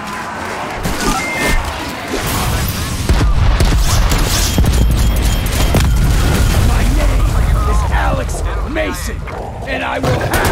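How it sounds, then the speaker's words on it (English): A cruise missile strike in Call of Duty Black Ops Cold War Zombies lands as heavy, rolling booms and a sustained barrage of explosions, loud and dense, with game voices and effects layered over it. "Cruise missile ready for launch."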